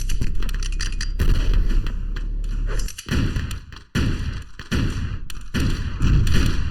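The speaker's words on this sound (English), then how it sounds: "I think he may have stepped on a nade and taken that rocket at the same time." Repeated booming blasts and thuds from grenades and rockets in the Open Arena video game, arriving in irregular bursts with brief gaps, over a continuous droning game background.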